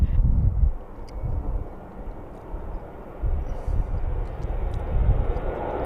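Aircraft engine starting up for taxi at Birmingham Airport, heard as a steady, low, distant rumble that swells and eases, with some wind buffeting on the microphone.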